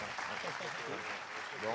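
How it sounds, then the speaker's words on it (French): Audience applause for the winning pair at the 2015 Trophées de l'innovation prize ceremony, a steady dense clapping wash throughout, with a voice speaking over it. "on va les applaudir"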